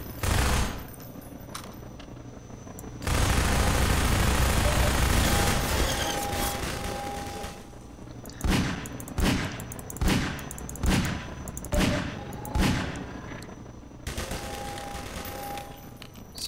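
Half-Life 2 weapon fire: a dense sustained burst of gunfire for several seconds, then about seven separate heavy blasts at a steady pace, loud and close, with no talking.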